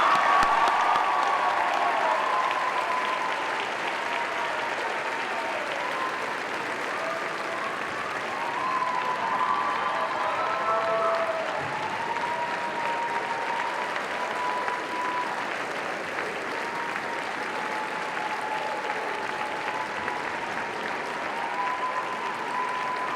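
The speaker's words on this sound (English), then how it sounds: "Would you all please join me in giving Tommy a big round of applause?" Audience applause fills a school senior honors night, a steady sustained round of clapping lasting over twenty seconds with faint tonal music or feedback lines running underneath.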